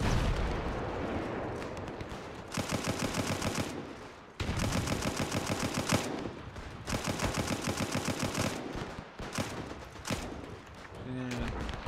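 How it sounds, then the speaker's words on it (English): Machine-gun fire in the WW1 video game Between Empires comes in three long, rapid rattling bursts separated by brief pauses, loud and close, over a background of battlefield din. "There's a machine gunner over there that kind of needs to take out."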